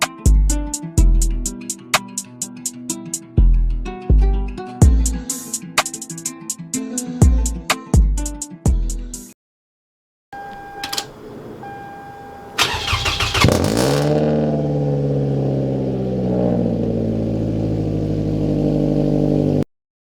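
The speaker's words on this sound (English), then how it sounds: "I'll give you guys a cold start so you guys can hear the car." Rhythmic clicking and knocking, then a pause before a starter cranks and a 2003 Toyota Camry engine catches on a cold start, roaring up and settling into a loud, steady idle.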